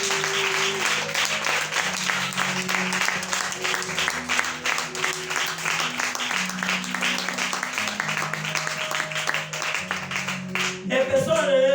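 A church congregation applauds and cheers steadily for the Lord throughout, dense clapping layered over worship music and voices, ending with a brief vocal sound.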